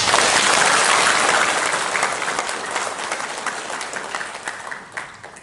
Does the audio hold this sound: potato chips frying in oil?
no